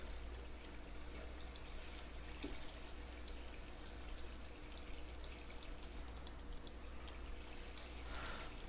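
Flowing water in the Minecraft video game, a faint, steady trickling and pouring that runs continuously without talk.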